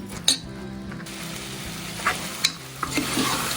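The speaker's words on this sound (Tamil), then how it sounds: "அது நல்லா வதங்குற வரை கிண்டிக்கிட்டே இருக்கணும்" Stirring and sautéing with salt and turmeric in a pan, a steady sizzle with a few sharp clinks and scrapes from the utensil against the pan, close and alone.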